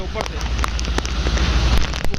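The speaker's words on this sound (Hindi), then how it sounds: "ये एक बार बारिश बहुत तेज़ शुरू हो गई है दोबारा से" Heavy rain pours down steadily in a dense, continuous hiss over a bridge in a city street during a downpour, loud and close with scattered drips and crackles throughout.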